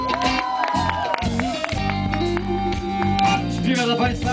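A concert crowd at a show in Wrocław applauds and cheers loudly and continuously, with shouts and whoops rising over steady clapping while the band's music carries on underneath.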